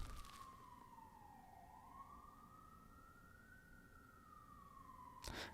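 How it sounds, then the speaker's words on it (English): An emergency siren wails in the distance on a New York street, one long smooth rise and fall sweeping steadily through the whole stretch, moderately loud over low traffic rumble, with a brief sharp burst of noise at the end. "as you can hear the sirens in the background"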